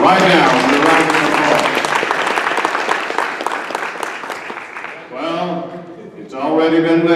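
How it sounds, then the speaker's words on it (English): Loud audience applause fills a press conference hall, dense and sustained, briefly thinning before a fresh burst of clapping near the end, with some crowd voices mixed in. "With a round of applause."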